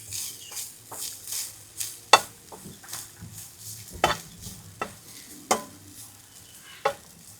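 Grated coconut roasting in ghee in a pan, soft sizzling under sharp intermittent scrapes and taps of a spoon against the pan, fairly quiet and close.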